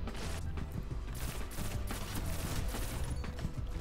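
A pulse rifle in the game Destiny fires in rapid bursts of sharp, close shots, loud and dense with no talking.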